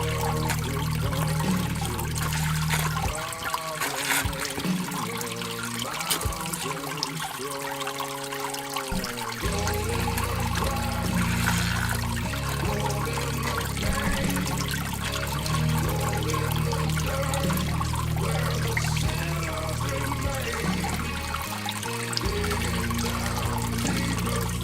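Fresh clean water pours and trickles steadily into a container, a continuous liquid rush that stays loud and close throughout, with brief dips in flow partway through.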